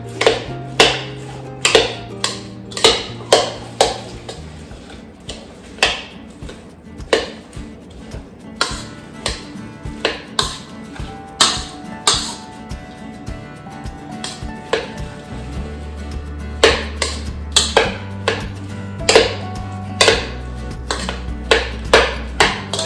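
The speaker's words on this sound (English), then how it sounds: "Stir that all together." A spoon stirs a mixture in a bowl, making repeated sharp taps and scrapes against the sides in an irregular rhythm, close and fairly loud, over a low steady background hum with no talking.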